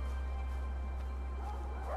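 Dogs in the video game Far Cry 4 yip and bark faintly in short bursts over a steady low game hum, with no talking.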